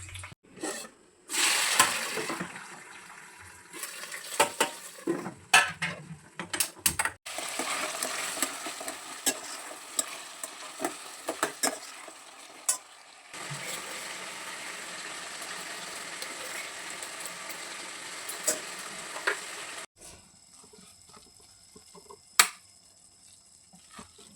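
Onion and tomato added to hot oil and frying, a close crackling sizzle with sharp pops and spoon scrapes, settling into a steady hiss before it drops away near the end.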